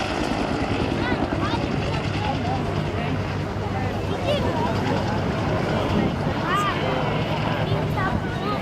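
A Bell UH-1 Huey helicopter in late-1960s Army markings flies at the Blackpool airshow, its steady rotor drone and low thrum sustained throughout while a commentator talks over it.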